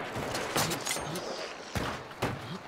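In a video game, a bomb lance fires at a meathead enemy. Several sharp explosive bursts come out close and loud, with thuds and rumbling between them.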